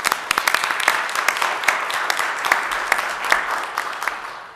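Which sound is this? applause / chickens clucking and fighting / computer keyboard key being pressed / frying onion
applause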